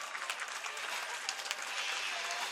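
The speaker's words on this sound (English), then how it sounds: "Let's give them all a big round of applause." Crowd applause for the women's beach volleyball players after a bronze medal match between Paraguay and Japan at the 2018 FIVB World Tour in Manila, a steady wash of clapping held at a fairly even, moderate level throughout.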